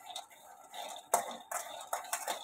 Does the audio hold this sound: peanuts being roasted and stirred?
yes